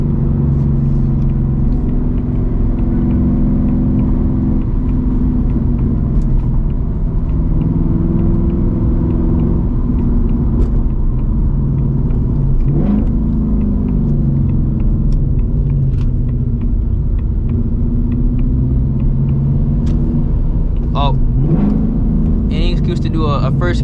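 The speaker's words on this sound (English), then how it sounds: "A first gear peel, we're gonna do it, because that first gear peel is absolutely hilarious in this car." A Ford Mustang GT S650, stripped for weight, rumbles with a deep, steady engine drone from inside the car for the whole stretch, with a brief rise near the end and people talking over it.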